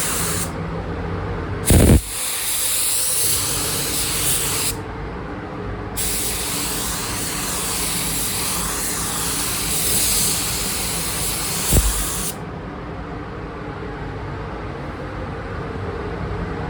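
Spray gun laying clear coat onto restored 1986 Suzuki GSX-R750 motorcycle parts, a steady airy hiss running in long passes with brief pauses between bursts, close and fairly loud.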